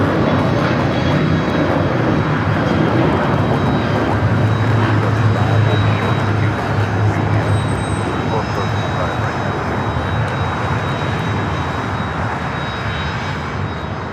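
Beechcraft 390 Premier business jet at LAX, a loud, continuous engine roar with a thin steady whine above it, holding level the whole time with voices talking over it.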